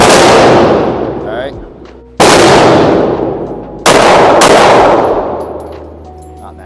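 Handgun fired at a shooting range in three sharp, loud reports spaced a couple of seconds apart, each ringing out with a long decaying echo; someone speaks briefly.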